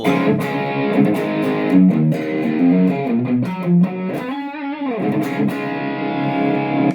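A distorted electric guitar played through a MOOER GE-200 effects unit plays a solo with sustained, bending notes and a gritty, effects-heavy tone, loud and continuous throughout.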